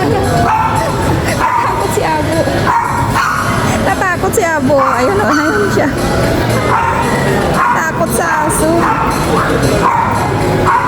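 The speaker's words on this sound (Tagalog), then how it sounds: "Tinatahulan siya ng aso." A dog barks and yips repeatedly in irregular bursts, close by, amid chatter and a busy crowd at a shopping mall, with people talking throughout.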